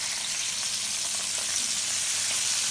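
A battered blooming onion fries upside down in hot oil, giving a loud, steady, close crackling sizzle that holds evenly throughout with no voices.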